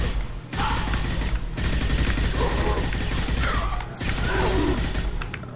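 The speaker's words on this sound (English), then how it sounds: "Keep firing." Rapid automatic gunfire in the video game Mass Effect 2, loud sustained bursts broken by brief pauses, with mechanical clatter and no talk.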